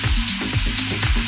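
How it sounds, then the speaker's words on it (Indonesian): Beong catfish pieces fry in hot oil with a loud, steady, close sizzle and crackle, pulsing slightly as the oil bubbles. "Proses menggoreng ikan beong ada tekniknya agar matangnya bersamaan"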